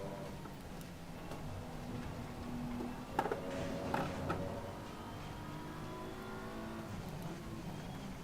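A race car engine revs in a racing video game, a steady droning whine with a few brief sharper clicks and spikes partway through, fairly quiet throughout.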